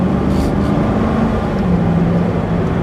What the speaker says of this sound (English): Corvettes have been known for having great exhaust notes, and this one's no exception.